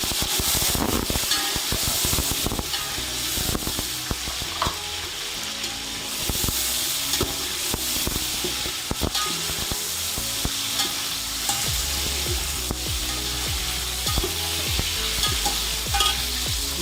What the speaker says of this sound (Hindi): गोश्त भूनेंगे।